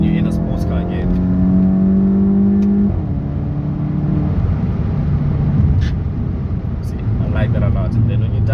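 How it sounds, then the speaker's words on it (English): Volkswagen Golf 7.5 GTI accelerating hard after manual downshifts, the engine note rising steadily and loud throughout, recorded from inside the car under continuous road and engine noise. "If you want to put the car into manual, drop a gear, drop another gear, put your foot down"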